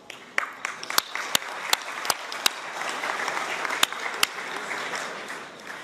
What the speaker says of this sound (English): Special thanks and applause to Ilka Kanava,